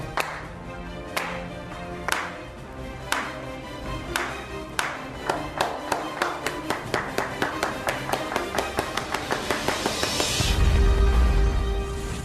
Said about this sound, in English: Leading up to every kickoff, let's slow clap it out.